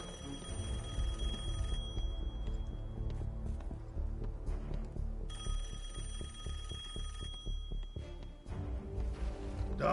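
A telephone rings repeatedly in Assassin's Creed Chronicles: Russia, its bell sounding in steady bursts over a dense layer of game music and ambience.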